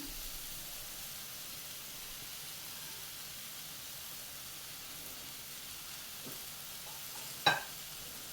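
Chicken sausage pepper fry is stirred in a pan, heard as a soft continuous sizzle and hiss with faint scraping. A single sharp clack sounds near the end.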